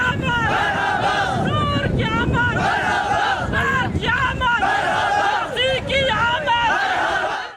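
Large crowd of devotees chanting religious slogans in unison while walking to a congregation, holding green flags; loud, continuous massed voices with rising and falling chant phrases, wind buffeting the microphone throughout.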